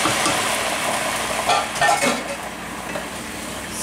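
Wine hitting a hot pan set to 400 while deglazing for veal scaloppine sizzles steadily and close up, with a few stirring scrapes of a utensil across the pan bottom.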